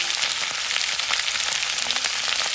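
Mixed vegetables frying in a pan give off a steady, dense sizzle with crackling pops, close and continuous from start to finish.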